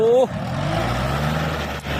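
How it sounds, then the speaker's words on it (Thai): A farm tractor engine runs hard at heavy throttle, giving a loud, steady droning roar with a strong low rumble throughout. A voice briefly sounds at the very start. "รถรถไถปาตุงเอาไม่เหลือเนี่ย"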